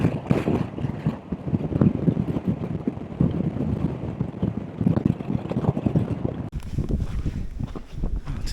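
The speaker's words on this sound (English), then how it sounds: "Jeez, it's windy." Strong gusting wind in Death Valley buffets the microphone, roaring steadily throughout with no voices.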